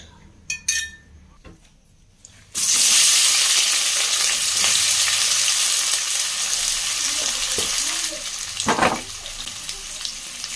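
Onion and chili hit hot oil in a home kitchen, a sudden loud sizzle that settles into a steady frying hiss, with a few utensil clinks and scrapes before and during.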